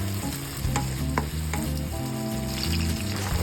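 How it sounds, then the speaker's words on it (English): Garlic, onion and tomatoes sizzle steadily in hot oil in a pan, cooked for ginisang upo with shrimp and sotanghon. A close, continuous frying hiss plays under a steady, stepping background melody. "let's heat oil in a pan. And then saute garlic and onion. Next, we add the tomatoes."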